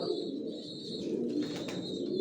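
Young long-distance Johnson-line racing pigeon chicks coo steadily up close, a low continuous throaty murmur with faint higher chirps above it.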